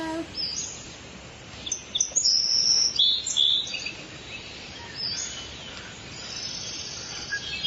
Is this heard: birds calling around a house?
yes